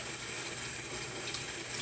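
Steady stream of tap water running and splashing over a plant plate in a sink, faint and continuous with no pauses.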